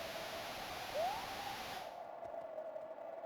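A single owl hoot sounds from a Newer Super Mario Bros. DS romhack, a short rising call over a faint bed of static hiss that cuts away partway through.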